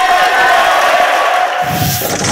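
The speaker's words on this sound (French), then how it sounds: "Mesdames et messieurs, un tonnerre d'applaudissements pour le tabac, s'il vous plaît." An audience at a public-health colloquium applauds and cheers in a dense, steady wash of clapping that carries on without a break.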